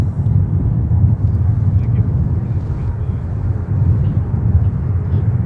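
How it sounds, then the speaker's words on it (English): A Delta Boeing 757 jet taking off at Minneapolis–St. Paul airport, heard as a steady, loud low rumble of engine roar that holds throughout without break. "here's our 757 taking off that we mentioned earlier."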